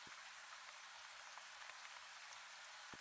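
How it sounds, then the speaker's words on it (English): Steady rain falls over a First World War trench, a soft, continuous hiss of drops on the surface, faint and even throughout, with no voices. "There is only the endless loop of the rain."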